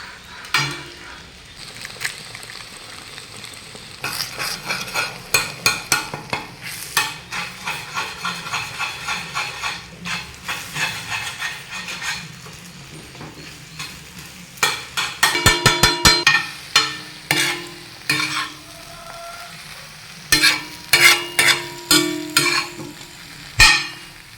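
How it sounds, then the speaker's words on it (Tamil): Kothu parotta with eggs is chopped and mixed on a hot griddle, with rapid rhythmic metal spatula clanging in repeated bursts over a steady sizzle, loud and close. "பரோட்டாவை முட்டையும் நல்லா மிக்ஸ் பண்ணியாச்சு."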